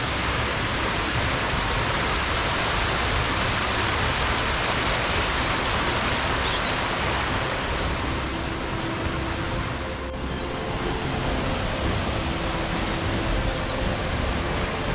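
A waterfall on a Lowveld trip roars as a dense, steady wash of rushing water, loud and unbroken for the whole stretch, with no voices.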